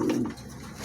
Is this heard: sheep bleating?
no